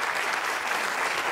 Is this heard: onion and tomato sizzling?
no